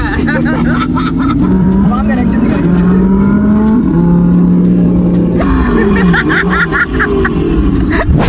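Cars roll in and rev their engines at an auto show in Bahawalpur, loud sustained engine tones rising and falling under a busy crowd with people talking throughout.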